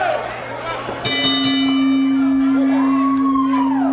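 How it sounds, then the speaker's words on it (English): A boxing bell at a Hurricane Hector vs Jay Garland bout rings once and sustains a long, loud metallic tone over a steady crowd murmur. "Bell has rung, and we're on our way."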